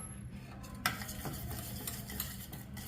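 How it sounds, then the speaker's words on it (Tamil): Onion and green chili fry in a pan for an egg ball curry, giving a soft, steady sizzle with stirring scrapes and one sharp utensil knock near the start, heard alone. "இப்போ வெங்காயம் போடுறோம் அப்புறம் பச்சை மிளகாய் கொஞ்சம்"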